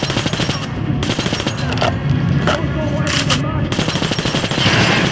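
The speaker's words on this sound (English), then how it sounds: "It's going to take more bullets to penetrate the armor." Rapid automatic gunfire in the video game Metro Last Light Redux, fired in dense bursts with a pause in the middle, loud and close, with speech underneath.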